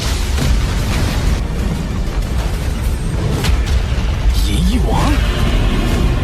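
A large energy blast in the Swallowed Star donghua animation booms loudly and continuously over a dense, roaring soundtrack, with brief voice-like swoops near the end.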